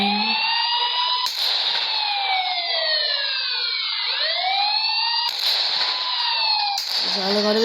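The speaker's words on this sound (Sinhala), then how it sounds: "මේකේ මැප් එක ගන්න සයිරන් එකක් ඇහෙනවා." A siren wails on a video game map, rising and falling in long sweeping tones with overlapping layers, loud and continuous, broken by a few brief noisy bursts.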